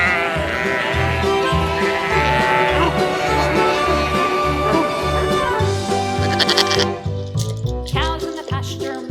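Sheep bleat repeatedly over a bouncy, rhythmic children's farm song, with the animal calls mixed loudly into the music.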